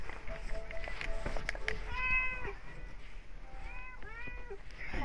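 A house cat meows twice, drawn-out rising and falling cries over steady background game noise and low room sound, fairly close and moderately loud.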